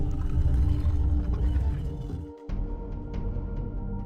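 A low, drawn-out whale call plays as a puzzle sound in the Riven video game. It is a deep, moaning tone that fills most of the moment, then breaks briefly before resuming more faintly beneath soft clicks.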